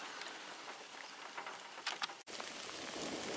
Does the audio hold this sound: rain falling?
yes